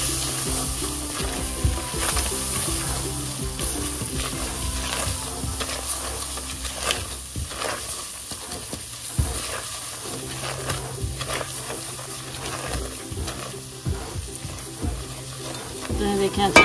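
Flour roasting in melted butter in a pan, stirred steadily with a soft, even sizzle and scraping, with a faint high whine in the background and no voices.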